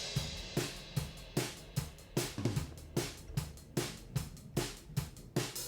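Raw acoustic drum kit playing a steady rock beat with regular kick and snare hits and cymbals, lightly compressed with a touch of reverb, loud and alone without talk.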